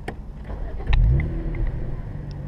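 Engine of a bone-stock 2013 BMW 335is convertible with the N54 twin-turbo, a steady rumbling drone that swells into a louder surge of revving about a second in, then holds at a fairly even level while driving.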